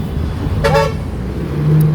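Car horn honking in busy Manila traffic, one short sharp toot rising over a steady rumble of engines and road noise, loud and close.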